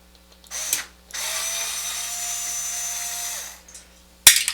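A power screwdriver whirs loudly for a few seconds while backing screws out of a radiator bracket inside a be quiet! Silent Base 802 PC case, followed by a sharp metallic clatter.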